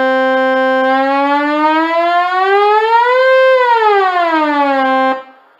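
A synthesizer oscillator tone with a smooth pitch sweep, a bright buzzy note gliding steadily upward, bending back down, then holding before cutting off, loud and alone.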